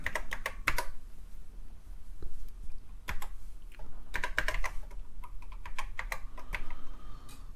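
Keys clack on a TRS-80 Model I computer keyboard in irregular bursts of close, sharp clicks with short pauses between strokes.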